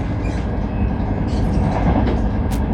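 Steady rumble and rattle inside a Frecciarossa high-speed train carriage running from Rome to Venice, a continuous rolling hum with faint higher clatter and no clear speech.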